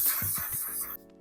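A can of Until Dawn matte setting spray gives a short hissing burst, close and fairly quiet, with a few small clicks before it cuts off.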